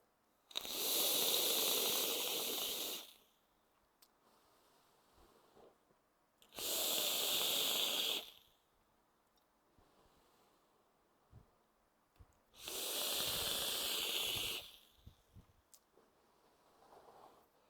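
Three long, loud breathy hisses from vape hits on a Thunder Cloud dual coil atomizer with fully open airflow, each lasting about two seconds and separated by quiet pauses with faint clicks.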